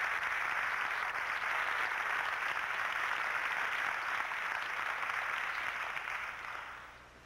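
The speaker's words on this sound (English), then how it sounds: "Let's give a real hand of applause, if you will, to John Quade." A crowd at a preparedness expo applauds John Quade, a steady, fairly distant wash of many hands clapping that holds evenly, then tapers off toward the end.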